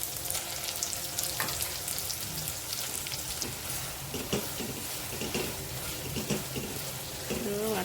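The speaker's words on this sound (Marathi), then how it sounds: "त्याला थोडं परतून घ्यायचं आहे तेलावर एक ते दोन मिनटं" Mangalorean chicken masala paste sautéing in hot oil for a chicken curry, a steady close sizzle with scattered scraping and clinking from stirring throughout.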